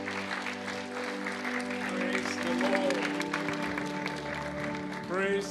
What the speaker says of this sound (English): Let's give a round of applause as he comes up the stage.